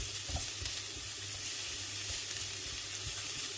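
Smoked meat sizzles steadily in a pan as its fat renders out, a continuous close crackle and hiss with no voices over it.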